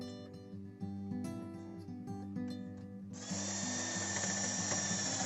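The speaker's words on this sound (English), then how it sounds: "Now we drill through the deck a little bit deeper" A power drill whirs steadily up close, then grinds harder and louder as it bites deeper through a boat deck, with no talking.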